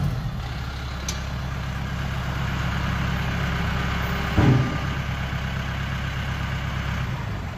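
A 2015 Mahindra 1538HST tractor runs steadily with its PTO engaged, a continuous low engine drone with a brief louder knock midway, heard up close and alone.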